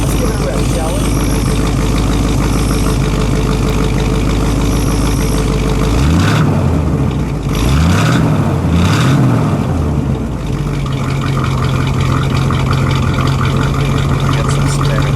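Supercharged R2 engine of a 1964 Studebaker Avanti, running loud and near with a rough idle that swells through several quick revs in the middle, then settles to a steadier hum.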